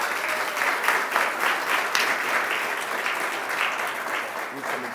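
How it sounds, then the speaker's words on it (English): An audience claps steadily at an anniversary ceremony marking 50 years of nursing and health programs at SUNY Downstate, a moderate, continuous applause with slight swells and faint murmuring. "so give him a round of applause"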